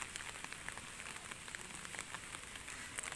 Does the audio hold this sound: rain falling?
yes